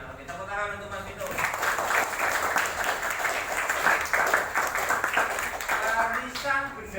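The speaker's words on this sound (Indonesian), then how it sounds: "tepuk tangan untuk Mas Vito" Applause for a student in a classroom session, a sustained patter of clapping from a group lasting several seconds, with talk at the start and end.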